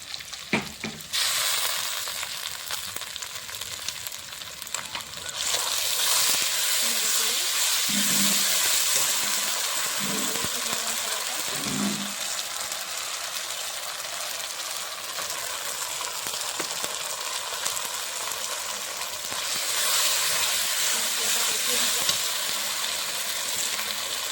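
Onion, whole garlic and a ginger-cumin-garlic paste fry in a pan for a mutton curry. A loud, continuous sizzle swells after a few seconds, and occasional stirring scrapes run under it.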